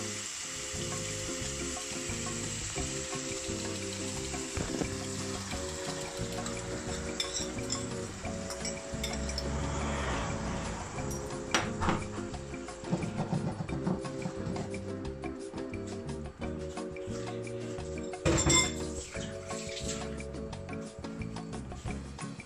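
Dishes and pots washed under running tap water in a kitchen sink while cooking fried plantain, with steady water flow and scattered clinks and clatter, loudest near the middle and end, close and continuous.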